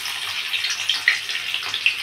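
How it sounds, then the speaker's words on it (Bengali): Chopped onion hits hot oil in a pan, giving a soft, continuous sizzle with small crackling pops, fairly faint and close, lasting a couple of seconds with no talk. "এবার এই যে বাটিতে কুচি করে রাখা যে পেঁয়াজটা, এই পেঁয়াজটা আমি দিয়ে দেবো তেলের ভেতরে।"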